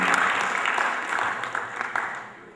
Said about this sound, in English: Big round of applause for Lewis Taylor on Woodwinds.